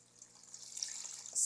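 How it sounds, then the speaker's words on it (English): Tap water running into a cooking pot of oxtail for a hot pot, a soft steady hiss of filling water that grows slightly louder toward the end, heard alone. "I'm gonna cover it with some water."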